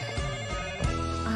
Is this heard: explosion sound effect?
no